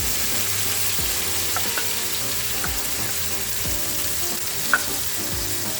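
Masala mixture for a Guyanese fish curry sizzles steadily in a hot pan, a continuous close frying hiss with faint scraping and small pops throughout.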